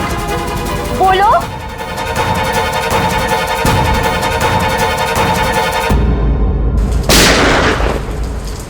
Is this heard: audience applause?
no